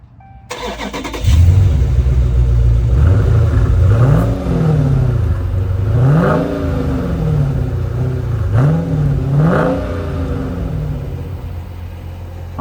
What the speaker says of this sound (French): Écoutons le son du moteur.